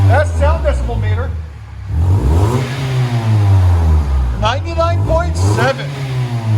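A 2008 Toyota Yaris with a 1.5L engine revs loudly and close through an eBay aftermarket muffler, several rising-and-falling throttle blips over a steady idle rumble.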